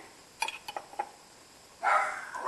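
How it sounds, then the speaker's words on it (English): A dog indoors in a home kitchen gives three or four quick sharp barks in succession, fairly close, followed by a pause and then a louder burst of noise. "Lola, no barking, please."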